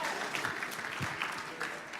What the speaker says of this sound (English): we can get more applause than that